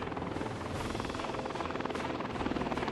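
Cargo helicopter in the city-building game Workers and Resources: Soviet Republic, a steady rapid rotor thump with engine whine, continuous and fairly quiet, with no talk over it.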